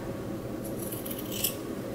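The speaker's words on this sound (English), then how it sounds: "Now I'm going to take some scissors." Scissors snip through fabric close up, soft crisp cutting over a low steady background hum.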